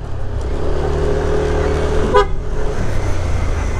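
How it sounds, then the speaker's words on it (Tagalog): One brief, sharp toot from a Yamaha NMAX V2.1 scooter horn cuts through the steady rumble of its idling engine. "Lakas ng busina natin."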